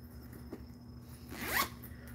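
A single zipper on a small leather-lined handbag is pulled, a short ratcheting zip rising to a quick rasp, close and fairly quiet with no talking.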